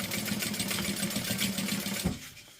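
A sewing machine stitching a bag gusset at a quarter-inch seam allowance with backstitching, a rapid steady mechanical whirr and needle chatter that runs evenly for about two seconds before cutting off into quiet.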